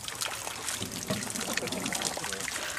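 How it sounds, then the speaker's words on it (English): An aquarium aerator bubbles steadily in a fish tank, a continuous close trickling and gurgling of water that runs unbroken through the moment. "that's the aerator"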